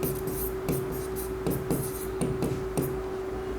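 Marker or chalk writing on a board while working an accounting problem, a series of short scratchy strokes at an uneven rhythm over a steady hum, close and moderately quiet.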